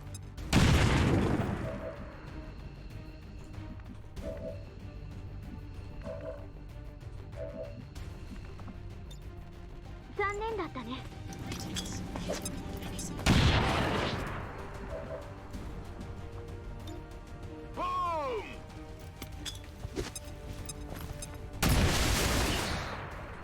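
Frag grenade explosion and gunfire in XCOM 2: several heavy booms and sharp shots spread across the scene, including a loud burst near the start and others later, over background game music and chirping effects.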